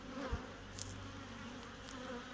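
Honeybees buzz steadily around an opened ALPHA hive during a swarm visit, a soft continuous hum with a few brief nearby thumps and fly-bys.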